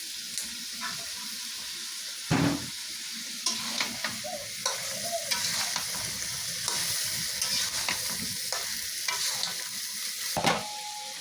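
Chicken curry with ground chili and turmeric paste and large potato chunks sizzling in a pan, stirred with repeated scraping and knocking of the spoon against the pot, close and continuous.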